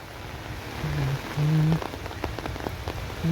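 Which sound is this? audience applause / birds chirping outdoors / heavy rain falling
heavy rain falling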